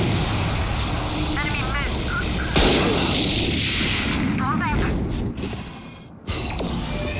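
Valorant gameplay on the Ascent map with Brimstone calling an orbital strike: booming blasts and mechanical crackling with sharp bursts. A loud hit lands partway through and the sound cuts out briefly near the end, under in-game voices.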